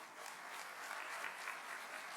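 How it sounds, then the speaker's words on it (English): Conference audience applauding, a soft, even wash of many hands clapping at some distance, steady and sustained with no voices over it. "Can we have a big round of applause?"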